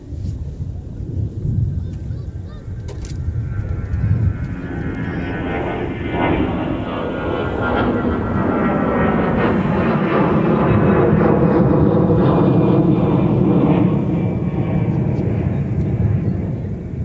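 United airliner taxiing for departure at MSP airport, a loud sustained jet engine roar that swells and holds steady throughout, close and dominant with no talk.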